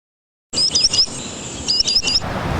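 After a moment of silence, a spotted sandpiper gives two quick series of sharp, high piping notes, close and clear over faint outdoor ambience in Vermont.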